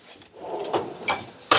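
A tool drawer in a home workshop is worked in a few quick clattering bursts, with a sharp final knock of metal and wood, close and short.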